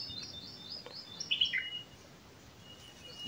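Several short bird chirps and calls ring out in a forest, clustered in the first half and fairly faint against a quiet, airy background with no talking.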